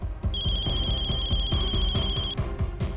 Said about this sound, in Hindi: pick up the phone